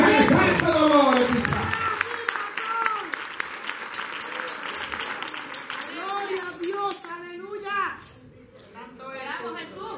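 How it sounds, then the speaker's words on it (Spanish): A church congregation breaks into applause, a dense wash of clapping loudest at the start and then thinning under a preacher's voice and a steady musical tone that carry through the rest. "Give a hand clap to the Lord."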